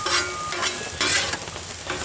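Onions sauté on a Blackstone griddle, a loud continuous sizzle with scraping spatula strokes stirring them across the hot flat-top, close and without talk.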